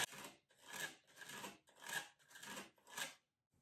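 A pencil drawing a line on a wall, heard as six short scratchy strokes in a steady back-and-forth rhythm, close and fairly quiet, with brief pauses between strokes and no voices.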